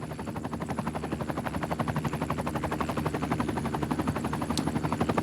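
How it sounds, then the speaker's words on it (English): A helicopter in the city-building game Cities: Skylines II flies close overhead, its rotor chopping in a steady, fast rhythm throughout at an even, fairly loud level with no talking. "That helicopter. That's also a problem I had in Skylines 1. I can't find a way to mute it."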